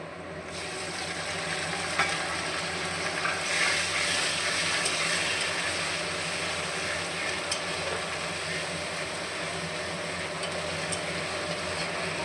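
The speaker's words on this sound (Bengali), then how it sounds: "সুন্দর করে মশলাটা কষিয়ে নেব" A ground paste of ginger, garlic, onion, green chilli, cumin and coriander fries with chicken for chicken kosha, a continuous soft sizzle and hiss with occasional stirring scrapes, steady and unbroken.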